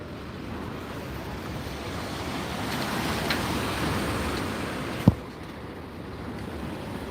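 Ocean waves wash steadily against the shore at the seaside in Tenerife, with wind buffeting the microphone and one sharp knock near the end.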